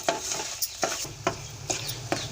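A ladle stirs 150 grams of sugar into a thickening palkova milk mixture in a pan, scraping in five or six regular strokes with a soft sizzle underneath and no voices.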